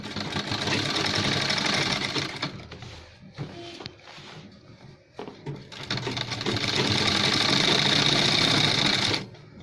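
Sewing machine stitching a seam on a gents shirt, a fast, loud mechanical whirr in long runs that stops and pauses midway before a second sustained burst of stitching.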